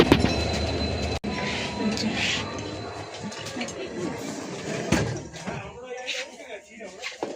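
Heard from inside a moving train, a steady low rumbling roar along the rails with occasional clunks, while people talk nearby.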